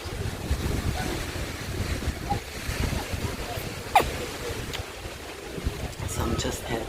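Jamaican beach ambience on a Sunday afternoon, with steady surf washing in and gusty wind buffeting the microphone throughout, loud and continuous with no clear break.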